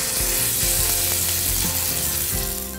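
Mahi-mahi fillet topped with oil searing in a hot pan, a continuous broadband sizzle and crackle with a few soft clicks and knocks of the pan, close and steady, fading slightly at the end.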